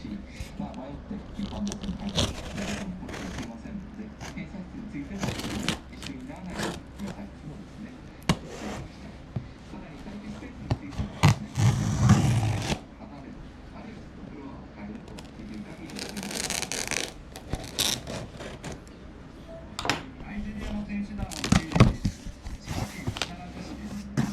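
Packaging around an HKS dry carbon fiber engine cover for a GR Yaris is opened with irregular crinkling, tearing and rustling, loud and close, in bursts with pauses between.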